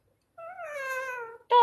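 A pet parrot imitates a cat, producing one clear, drawn-out tonal meow that rises and falls, followed by the abrupt, loud start of another call, with no other background noise.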